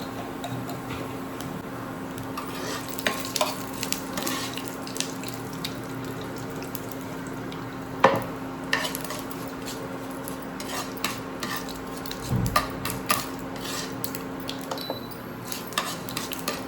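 Curry leaves and cumin seeds frying in a pan make a steady, soft sizzle with occasional crackles and pops throughout.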